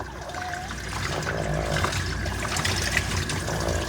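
Water running and splashing while a dog is rinsed during home grooming, a steady trickling stream that grows slightly fuller, with faint clatter in the background and no talking.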